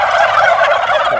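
Wild turkeys answer a hand-made female turkey call with a loud, close, rapid gobble, one burst of rattling calls filling the moment.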